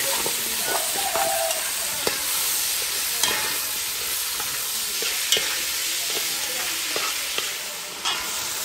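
Brèdes greens fry in hot oil in a pot over a gas flame, giving a loud, continuous hissing sizzle with occasional stirring clatter and small pops, close and steady with no talk.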